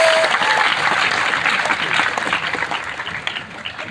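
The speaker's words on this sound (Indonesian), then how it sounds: "tepuk tangan dulu untuk santri" An audience at an Islamic boarding school event claps for the students, a dense burst of applause that holds steady and then slowly thins toward the end.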